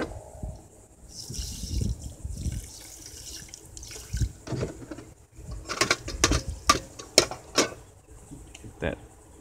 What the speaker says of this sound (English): and then I'm just gonna add some water.